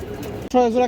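A Kaldom pigeon, a boot-beaked breed kept for sale, gives a single short, close coo that cuts in after a murmur of background sound.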